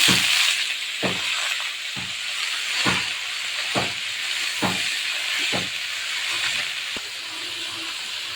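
Spinach-style greens with green chillies hitting a pan of fried garlic, a steady loud hiss of sizzling oil with sharp crackles and pops recurring roughly every second.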